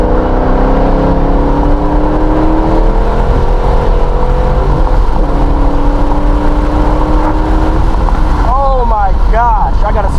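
A 2014 Mustang rumbles loud and close on a backroad, its engine note climbing steadily after a downshift, with a sharp rising sweep near the end as it pulls hard.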